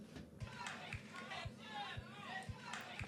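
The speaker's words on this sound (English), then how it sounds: "another very, very cool loop that I found on Splice, which kind of goes off the feeling of a crowd being in the background" A crowd ambience loop from a dance pop music track, a dense bed of distant chatter and murmur with faint whistle-like calls, pumped by a steady kick drum thumping about twice per second throughout.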